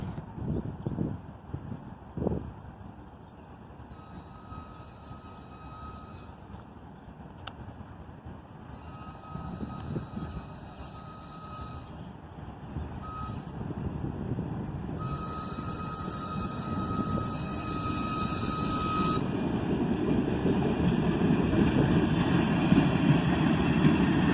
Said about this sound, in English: If you listen close, you can hear the whistle on the caboose.